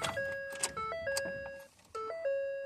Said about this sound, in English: This will be the first power up of the vehicle.